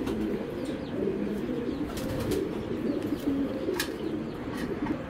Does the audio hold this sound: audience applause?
no